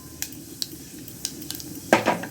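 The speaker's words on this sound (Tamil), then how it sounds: "சீரகம் நல்லா பொரியட்டும்" Cumin seeds fry in hot oil for a tempering, giving a soft, close sizzle. A spoon or pan makes sharp metallic clicks at irregular intervals, and a louder clatter comes near the end.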